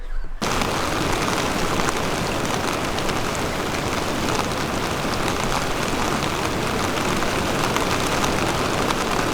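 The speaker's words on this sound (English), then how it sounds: "it is pouring down here" Heavy rain pours onto the roof of a parked RV at Arthur's Pass Village, a dense, loud, unbroken drumming that starts abruptly and holds for the whole stretch with no voices.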